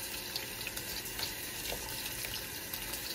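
Running tap water pours steadily over a dahlia tuber held in a sink as it is rinsed clean, a continuous close splashing wash with no talk.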